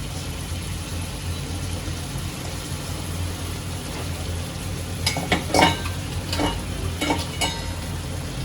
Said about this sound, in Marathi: आता यात मी आपले गवार जे आपण तोडून घेतलेले ते घालून घेते.